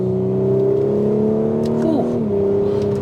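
A 2022 Audi S4 revs hard from inside the cabin, its engine note climbing steadily before a quick gear change drops the pitch and the pull resumes, loud and continuous throughout.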